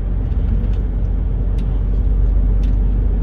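A car cruises along the A43 autobahn in Germany, producing a loud, steady low road and engine rumble with constant tire noise throughout and no break.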